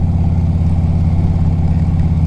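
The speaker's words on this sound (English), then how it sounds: "Those Reinhardt pipes, they really free up a lot of power." A 2007 Harley-Davidson Electra Glide Standard V-twin fitted with Reinhardt true dual exhaust rumbles steadily at close range, a deep, even idle with no talk.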